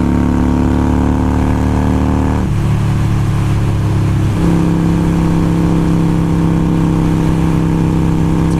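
A Harley-Davidson Iron 883 with a Vance & Hines Fuelpak FP3 held at full throttle while riding, a loud, steady, close engine roar with a brief dip in pitch midway before settling into a strong sustained drone.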